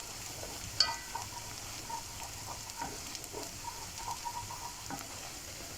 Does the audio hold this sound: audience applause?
no